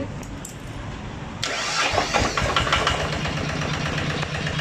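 A Magnum 155 Plus engine, sold as a used unit, cranks briefly and then catches and settles into a loud, steady running rumble close by, with no one speaking.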